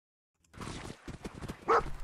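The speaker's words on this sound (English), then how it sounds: "And dogs." Dogs bark and yelp in Fallout 4, a cluster of close, loud barks starting after a brief silence, with a sharp cry near the end.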